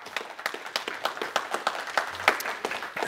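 Church congregation clapping along in a rhythmic, steady beat, a dense spread of hand claps filling the room at moderate loudness with no talking.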